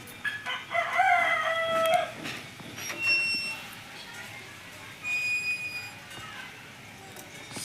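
A 1.3 kg fighting rooster with a cut comb, at Kankinara, gives one loud, close crow followed by short clucks and scattered bird calls amid quieter yard ambience, with some voices faintly in the background.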